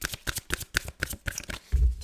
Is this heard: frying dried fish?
no